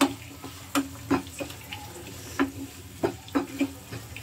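Onions and curry leaves sautéing over a low flame for a turkey berry vatha kuzhambu, with a soft sizzle broken by several sharp utensil clicks and stirring scrapes, close and fairly quiet with no talk.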